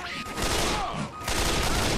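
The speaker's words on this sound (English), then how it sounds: "Who shot that?" Gunfire in the zombie shooter Left 4 Dead 2, rattling as dense overlapping shots over steady game noise, with a brief dip before the shooting resumes.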